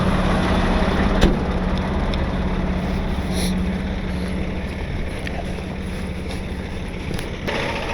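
A stuck truck on a snowy mountain road in a snowstorm revs steadily as its unchained wheels spin in the snow, a constant loud roar with wind buffeting the microphone throughout.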